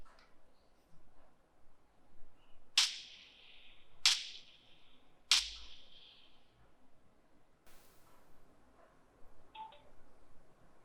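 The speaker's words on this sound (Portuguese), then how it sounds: "Esse som que você escutou aí é o efeito sonoro que indica que o modo game está ativado." Game mode activation chime on Lenovo XT60 earbuds: three sharp, bright electronic tones spaced about a second apart, then a softer tone, faint against a quiet background with no talking.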